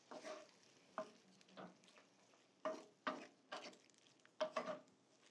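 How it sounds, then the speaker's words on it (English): Cod pieces and asparagus, artichoke hearts and olives stirred in a single pan: a series of quick scraping, sizzling strokes in soft bursts, fairly quiet and close, with no talking. "A quick stir again."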